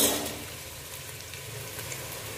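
Potatoes fry in a pan of oil for aloo pulao, giving a faint, steady sizzle and crackle that tapers slightly after an initial burst, with no talking.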